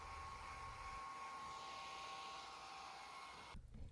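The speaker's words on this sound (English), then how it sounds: "I'll hit the lure with a hairdryer." Hair dryer blowing hot air over a painted swimbait fishing lure, a steady loud whooshing hum with a faint whine that runs evenly for about three and a half seconds before cutting off abruptly.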